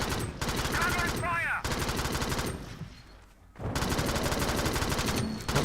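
Rapid automatic gunfire from the top-down shooter game Alien Swarm, loud and dense in sustained bursts with a short lull midway, game sound effects layered throughout.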